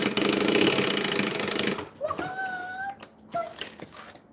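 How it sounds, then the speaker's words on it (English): A machine is revved while finishing an order before binding is added, a dense steady whirring roar for about two seconds that suddenly drops away, leaving quieter clicks and a brief whistling tone. "I'm still revving the machine"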